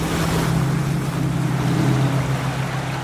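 A cruise boat motors along the Ord River in Australia's Kimberley, its engine a steady low drone over continuous water wash and wind, with no voices.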